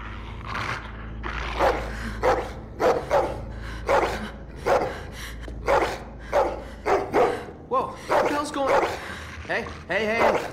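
Dog barking in The Walking Dead video game, a series of loud, close barks and yips repeated in bursts over a low background rumble, with some speech mixed in.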